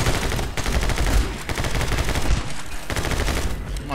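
Rapid, loud gunshots from the action game My Friend Pedro, a dense stream of repeated shots over about four seconds with brief pauses between bursts.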